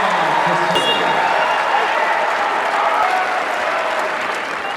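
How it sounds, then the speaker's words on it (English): Loud, raucous crowd ovation with sustained applause and cheering for a player at an NCAA women's volleyball tournament first-round match between Alabama State and Washington, filling the whole stretch without letting up. "the crowd gives her a raucous ovation"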